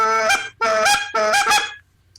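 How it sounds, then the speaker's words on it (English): Three loud, close honking notes, like a goose, come from a hand-blown goose call in the Goose Flute style, a fixed-tone hybrid. Each honk is cut off sharply and separated by short gaps, with no talk. "this call is more or less along the lines of the Goose Flute"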